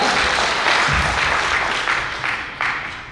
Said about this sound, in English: Can you just clap for him for one clap?